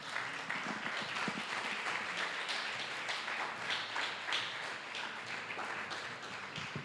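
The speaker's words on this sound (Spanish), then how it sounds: "En primer lugar, al sonidista Tomás Flynn, para quien pido un fuertísimo aplauso." Sustained audience applause at a lecture event, steady dense clapping from a crowd lasting throughout with no other sound standing out.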